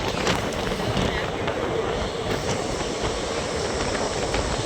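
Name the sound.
train passing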